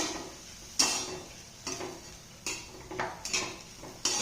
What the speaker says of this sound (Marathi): या ठिकाणी डाळ घातल्यानंतर ती अगोदरच्या मसाल्यामध्ये चांगली परतून घ्यायची।